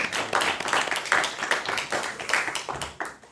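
Audience in a Korean poetry lecture clapping together, a dense patter of many hands near and fairly loud, swelling and dipping over a few seconds with no talk.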